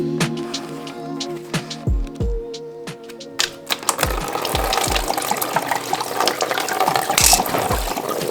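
Fluid leaks from a burst aftermarket car suspension unit, dripping at first and then pouring out more steadily, with scattered sharp ticks and clicks layered over the splashing.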